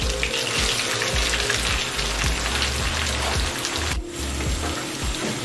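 Onion and green chillies sautéing in oil with chicken for a pepper chicken curry, a steady, loud broadband sizzle with scattered low knocks and scrapes from stirring throughout.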